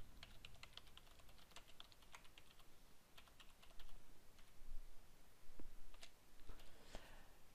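Keys on a computer keyboard clatter in quick bursts as text is entered into a table in Microsoft Word, with scattered louder taps and brief pauses between runs of typing.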